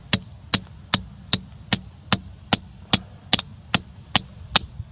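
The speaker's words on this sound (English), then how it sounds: "go ahead and hammer it a little bit" Hammer blows strike in a steady, evenly spaced series, about a dozen sharp metallic impacts roughly every 0.4 seconds, close and distinct over a faint background hum with no talking.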